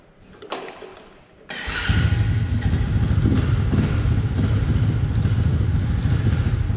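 A motorcycle with its speed limiter and engine cut-off disabled starts up after a few mechanical clicks and a brief crank, then settles into a steady, loud idle close to the microphone.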